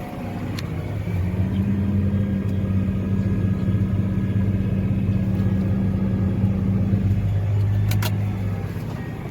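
Farm vehicle with its tires spinning in a wet field, a steady low engine rumble and drone that holds for several seconds before easing off, with a few faint clicks and no talk.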